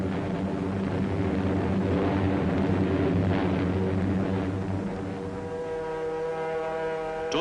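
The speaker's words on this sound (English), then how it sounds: "In one raid on Rangoon, 56 B-29s participated." A formation of B-29 Superfortress bombers on a raid over Rangoon produces a loud, steady droning roar of piston engines with layered humming tones. A slight drop in level comes near the end, and no one speaks.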